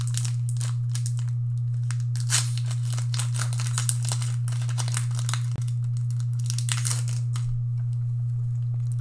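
Pokémon Rebel Clash booster pack wrappers are torn and crinkled open close by in a busy run of foil ripping and rustling over a steady low electrical hum, with no talking.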